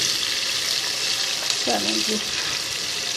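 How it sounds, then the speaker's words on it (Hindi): Cumin seeds sizzling in hot oil for a tempering, cooked for dal chana gosht: a steady loud fry hiss throughout, with someone speaking briefly over it. "ठीक है कि ज़ीरे का भगार हो जाए।"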